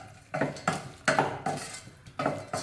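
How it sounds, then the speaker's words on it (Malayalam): Spoon scraping and clinking against a metal pot while pepper rasam ingredients with tomato are mixed, several distinct stirring strokes in an irregular rhythm, close and moderately loud with no talking. "എല്ലാം കൂടി നന്നായിട്ടൊന്ന് മിക്സ് ചെയ്ത് കൊടുക്കാം."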